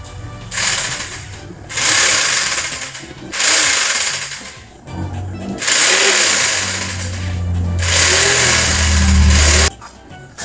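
An electric jigsaw from a 3-in-1 power tool set with an angle grinder and impact drill runs in three loud bursts of about two seconds each, its whine starting and stopping between short pauses.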